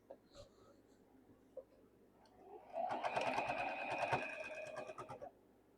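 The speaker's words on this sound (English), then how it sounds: "we're just going to stitch right where those two lines were." A sewing machine stitching overalls fabric runs in a steady, fairly loud buzzing whir for about three seconds after a few faint clicks, then slows and stops.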